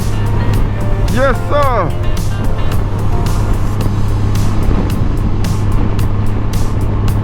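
A 2024 Honda Gold Wing DCT motorcycle cruises along with a steady engine drone and strong wind rush throughout, while someone speaks briefly over the constant ride noise.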